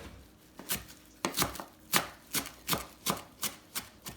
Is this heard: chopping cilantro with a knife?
yes